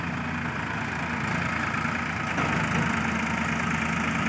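A Farmtrac T20 tractor engine idles steadily on sandy soil, a loud, even mechanical drone throughout with no talk.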